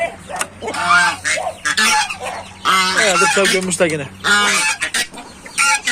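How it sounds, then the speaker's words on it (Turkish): Loud, raucous honking from a group of geese, repeated and overlapping close by, with a person briefly speaking among the calls. "Kazları salayım."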